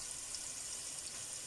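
Ingredients fry in a pan for samp and mutton, giving a soft, steady sizzle with no voices.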